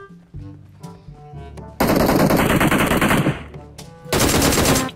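Automatic gunfire in a video game while shooting a bot: loud rapid bursts of shots, the first lasting about a second and a half, with a second burst near the end, between quieter game sounds.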